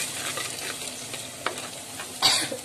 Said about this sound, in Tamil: புளி தண்ணி நல்லா கொதிக்குது.